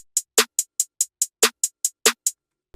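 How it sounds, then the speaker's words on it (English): Snare hits in a hip-hop beat, three sharp, punchy cracks standing out among a steady run of crisp hi-hat ticks, isolated and close with no other instruments. "And then we have a snare."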